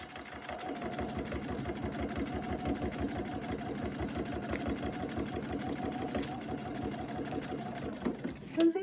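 A sewing machine runs a serpentine stitch along the brim of a bucket hat, with a steady rapid mechanical chatter of evenly spaced needle strokes continuing for about eight seconds, fairly close and moderately quiet.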